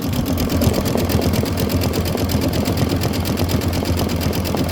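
An embroidery machine stitches a satin outline on a sweetheart bench pillow design, a steady, fast mechanical chatter of needle strokes, close and loud, running without a break and with no voices.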